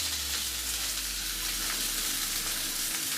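Chopped large onion with a few curry leaves frying in oil for a pepper prawn dish, a dense continuous sizzle close to the pan, loud and even throughout, with no talking.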